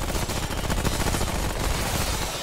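Continuous gunfire in Remnant: From the Ashes: a loud, dense, unbroken stream of rapid shots and crackle that fills the whole stretch evenly, with no clear gaps and no talking.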